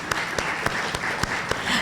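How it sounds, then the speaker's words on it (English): Audience applause at a district town hall meeting, a short burst of fairly steady clapping from the room with a few sharper individual claps. "Can we give them a round of applause again?"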